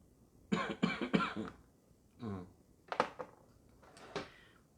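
A lingering cough comes in a few separate bursts: three quick coughs, then a throaty clearing, followed by two more coughs, near and fairly loud against a quiet room.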